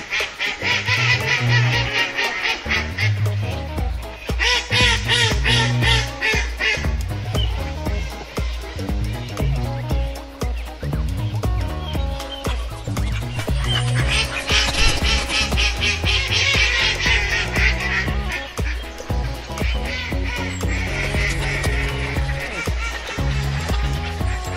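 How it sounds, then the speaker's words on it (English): Duck quacks repeat throughout over a loud, busy musical backing, with bright bursts of sound recurring every few seconds. "Ducks love to hang out in ponds and go quack."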